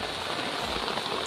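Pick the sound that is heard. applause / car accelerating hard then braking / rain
rain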